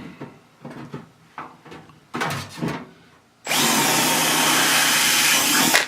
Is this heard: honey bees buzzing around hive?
no